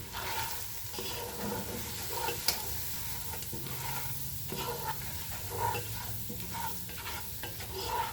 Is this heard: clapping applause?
no